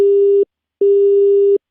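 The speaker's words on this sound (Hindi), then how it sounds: "Sorry sir, phone got disconnect हो गया।" Two loud, steady beeps of a busy tone on a disconnected phone call on a radio show, one short and one longer, separated by a brief silence.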